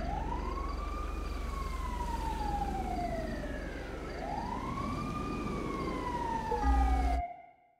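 A video game ambulance siren wails, rising and falling in slow sweeps over a low engine rumble, steady and fairly loud, before cutting off abruptly at the end.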